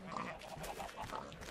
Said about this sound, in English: And we have ourselves some pigs.